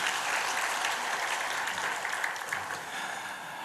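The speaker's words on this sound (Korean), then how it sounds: "영광의 박수를 하나님께 성가대에게 한번 드립니다" A church congregation applauds the choir during a Sunday service, a soft, steady wash of many hands clapping at a distance that continues throughout with no one speaking.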